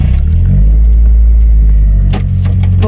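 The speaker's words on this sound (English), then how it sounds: "you guys would remember the car start" A hot car engine idles with a deep, loud, steady rumble close up, then gives a brief rise near the end, with a few clicks and knocks over the drone.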